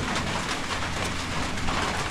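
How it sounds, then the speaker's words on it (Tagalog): Heavy rain falling in Batangas, a dense, constant roar of downpour, loud and unbroken. "kung narinig nyo, medyo malakas-lakas yung ulan"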